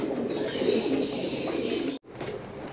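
Racing pigeons at a home loft coo steadily and close by while more birds land on the landing board and circle overhead, with faint wing flaps in a continuous bird murmur that drops out briefly near the end.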